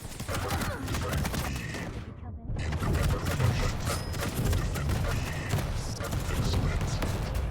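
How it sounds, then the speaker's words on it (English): Rapid machine gun fire rattles steadily through a Quake Champions match, dense repeated shots mixed with game effects, briefly cutting out before resuming under a commentator's voice. "trucking people with his machine gun"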